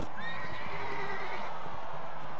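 A horse whinnies in the Roman Invasion mod of the Mount and Blade video game, a single rising and falling neigh heard close and clear over faint background game noise.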